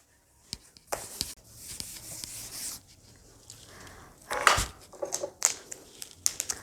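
A classroom board is wiped clean of writing with a duster in several rough, scraping strokes, some louder bursts toward the end, close by and without talk.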